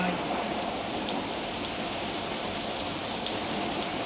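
Steady rain pours down in the Indian Theft Auto simulator game, an even, dense hiss of falling drops spread across the whole stretch with no pauses.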